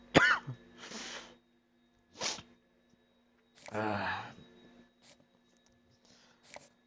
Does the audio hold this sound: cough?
yes